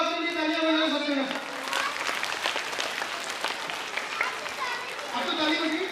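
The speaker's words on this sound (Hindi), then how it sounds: "अब एक काम करो, अपने लिए तालियां बजाओ सब जगह।" Children applaud together in a school safety-awareness session, a dense, loud burst of clapping that fills most of the moment, with a voice or two rising at the start and end.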